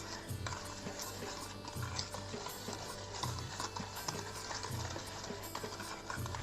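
Nankhatai batter beaten steadily in a bowl, a busy scraping-and-tapping rhythm with regular low knocks about every second and a half, close and continuous with no talking.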